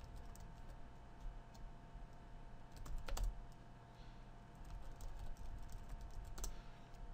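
Keystrokes on a computer keyboard as someone types commands into an SSH session on an Ubuntu 15.04 server, a steady run of soft clicks with a brief louder burst midway, close and quiet with no talking.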